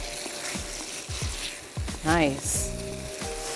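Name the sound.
brinjal and potato poriyal stir-fried on high flame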